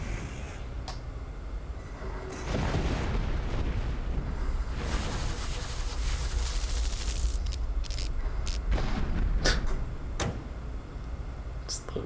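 Explosions in the video game Metal Gear Solid: The Twin Snakes, a loud sustained blast and rumbling debris lasting several seconds, followed by scattered sharp clanks and impacts, with game sounds continuing around them.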